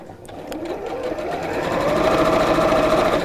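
A sewing machine runs steadily as it stitches the hem line along the bottom of a skirt or dress, whirring close and loud and gradually building in intensity with no talk over it.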